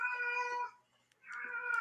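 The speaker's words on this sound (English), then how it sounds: "Sorry, my cat is going crazy." Pet cat indoors letting out two drawn-out, wailing meows with a short pause between, close and clear with no talk over them.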